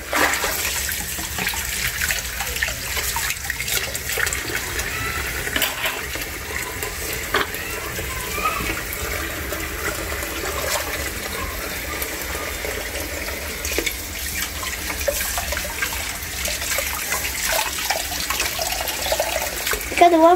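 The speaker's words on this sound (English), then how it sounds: "helping wash dishes for mommy" Tap water runs steadily from a kitchen faucet into a sink while children help wash dishes, a continuous hiss with faint clinks, under soft voices talking.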